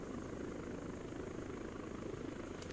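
Helicopter in the video game Arma 3, a steady loud rotor and engine drone running unbroken throughout, with no voices over it.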